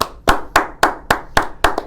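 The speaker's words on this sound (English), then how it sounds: "Let's give a round of applause." A single pair of hands clapping seven times in a steady rhythm, close and sharp, each clap ringing briefly before the next.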